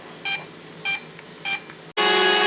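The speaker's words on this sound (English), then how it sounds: "I don't know what that beeping was" A DJI Mavic Mini drone gives an error alert: three short, bright electronic beeps spaced evenly about 0.6 seconds apart, fairly close and clear. A sudden loud burst of broadband noise follows.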